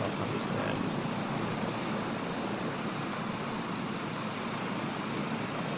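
A helicopter on a scenic flight over Nubra Valley gives a loud, steady, dense engine and rotor roar that fills the whole stretch without a break.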